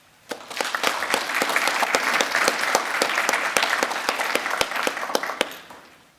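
Audience applause for a high school Navy Junior ROTC unit at a graduation ceremony, building quickly to a full crowd of clapping with a few sharp near claps, then fading out near the end.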